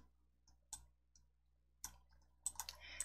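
Mouse clicks on a computer while working in PowerPoint, a few soft, close clicks scattered over a very quiet background.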